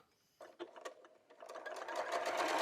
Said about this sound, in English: put it up underneath the foot, and sew.